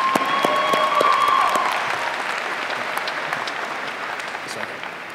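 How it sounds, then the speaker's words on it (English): Graduation crowd at a high school ceremony applauding, a loud wash of clapping that swells early then eases slightly, with a brief whistle or tone near the start. "Let's give a round of applause."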